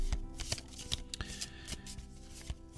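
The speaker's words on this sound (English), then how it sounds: "let's give the cards a good shuffle." A deck of cards is shuffled up close, with rapid riffling flutters and sharp snaps of cards being tapped and bridged.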